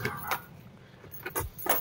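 A Nissan Terra emergency metal key jangles in short bursts, close and loud, with brief clinks and a faint bump between them.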